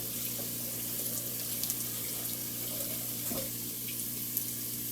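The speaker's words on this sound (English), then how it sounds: "chickpeas that have been soaking overnight. And rinse them." Soaked chickpeas being rinsed under a running kitchen tap, a steady close rush of water pouring and splashing in a sink throughout, with no voices.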